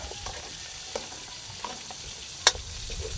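Ginger added to a frying pan and stirred while duck is being cooked for coconut-milk stew, giving a steady close sizzle with a few soft scraping stir knocks and one sharp clack near the end.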